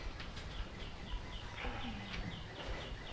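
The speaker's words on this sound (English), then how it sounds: "Lovely birds." Birds sing outdoors in a repeated series of short, high chirps and tweets, moderately distant and soft over a hissy background, with no voices.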